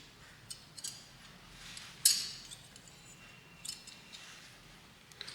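Scissors snip through gypsophila flower stems for a garland, a single sharp cut standing out near the middle amid faint handling rustles and quiet room tone.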